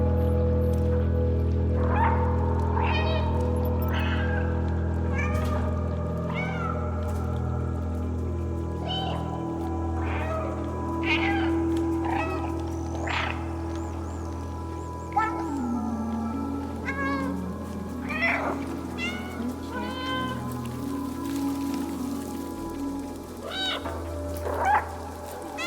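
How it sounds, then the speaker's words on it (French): A cat meowing repeatedly in the video game Stray, clear mid-pitched meows over a steady droning ambient background with light rain-like texture, close and prominent; no talking. "Je joue pas, mais je peux miauler."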